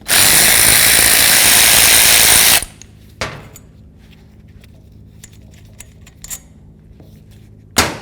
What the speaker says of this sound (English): To do that, we're going to remove these 2 10mm headed bolts.